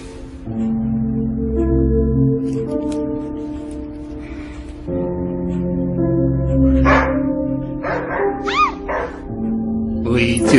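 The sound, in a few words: dog barking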